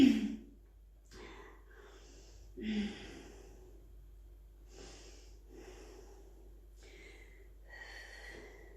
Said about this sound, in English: Take a couple of nice deep breaths there.